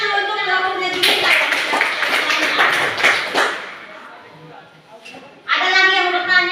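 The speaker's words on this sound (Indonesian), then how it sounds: "Tepuk tangan dulu untuk kelompoknya juga" Classroom applause for a student group, a burst of clapping and tapping that swells and fades over a few seconds, with a voice speaking before and again after.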